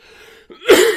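A lingering post-COVID cough: one harsh, loud burst near the end after a brief catch of breath, preceded by a faint tonal background.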